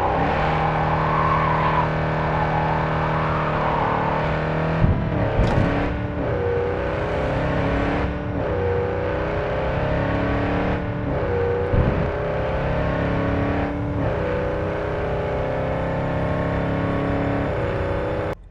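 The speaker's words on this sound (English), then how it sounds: "you gotta hear what this motor sounds like. It's pretty impressive, dude. Sounds like a monster." Quadra Type 66 Javelina car engine in Cyberpunk 2077 rumbling with a deep, steady growl, revving up and settling several times as it drives, close and loud throughout.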